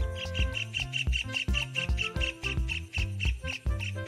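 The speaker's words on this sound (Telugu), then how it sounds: "పక్షుల కిలకిల అరవడం వింటారా?" Birds chirp and tweet in quick, regular bursts over a steady musical backing, the calls bright and repeated close together throughout.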